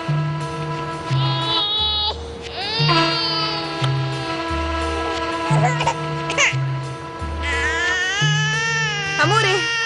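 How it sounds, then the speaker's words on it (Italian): An infant cries in repeated wailing bursts inside a house, loud and close, over a steady tonal music bed, with voices calling out at points. "c'è un bambino che piange!"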